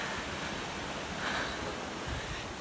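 A river flows in a steady, faint rush of running water with soft broadband hiss and no voices.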